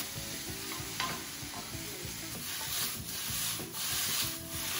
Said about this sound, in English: While my onions are cooking